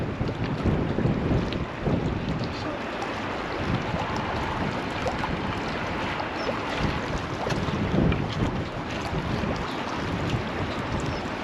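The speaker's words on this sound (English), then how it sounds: "Yeah, it's pretty strong, that wind, really, isn't it?" Strong wind blowing steadily across the microphone on the bank of the River Humber during sea fishing, a constant loud rumbling buffet with gusts and faint water movement, no voices.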